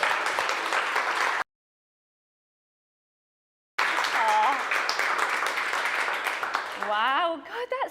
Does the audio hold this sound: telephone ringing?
no